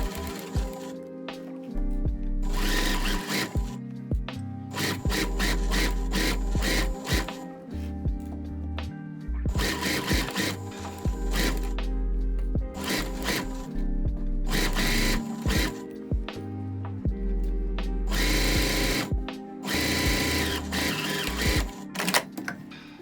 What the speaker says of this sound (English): Sew the side seam with a 5mm seam allowance.